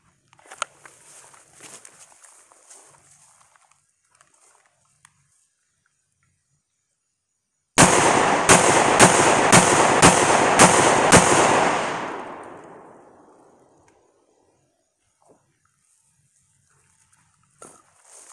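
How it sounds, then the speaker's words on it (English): A shotgun loaded with reloaded #00 buckshot fires a fast string of about seven loud blasts at 10 yards, the booms running together before a long fading echo, after quiet handling noise. "here we go with a quick 10-yard mag dump"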